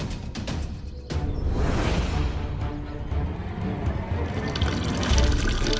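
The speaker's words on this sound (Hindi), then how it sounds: "खाना बनाने के लिए जितना पानी बचा था ना, सब बहा दिया" Water poured out of a clay pot used to store cooking water, a steady close splashing gush that swells after the first second and continues loudly to the end.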